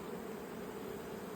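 Honeybees fill a hive opened for inspection with a faint, steady, even buzzing drone that holds without a break.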